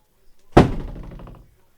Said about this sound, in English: the door just flew open there